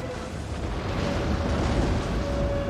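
Artillery fire and explosions in the Total War: Attila battle game, a dense, continuous rumble of booms with a sustained low roar and a steady faint tone, no distinct individual blasts.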